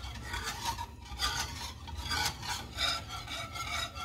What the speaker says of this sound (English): And we just have to keep stirring this and it will slowly thicken as it gets hotter